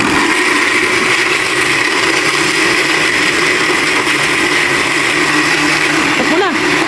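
A kitchen blender runs steadily for the whole stretch, a loud close whirring roar with constant texture and no pauses, while a person speaks underneath it.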